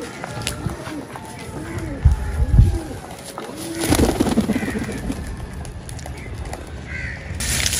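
Pigeons, a large tailed breed kept by a pigeon fancier, coo with rounded repeating calls amid a crowd-like background, with people talking nearby and a brief wing-flap burst midway.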